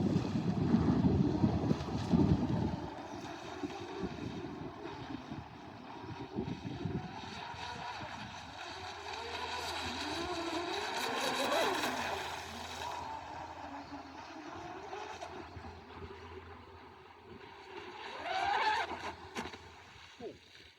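A twin-motor Blackjack 24 RC boat with very high power runs on water, its high motor whine rising and falling at a distance, with gusts of wind noise at the start.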